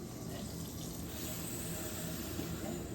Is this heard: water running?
yes